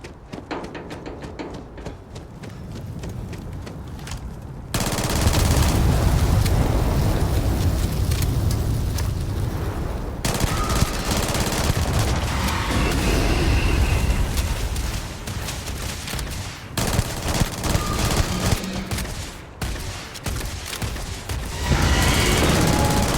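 Sustained bursts of submachine gun fire in the sci-fi game Starfield, loud and dense, with explosive booms mixed in over a continuous din of combat.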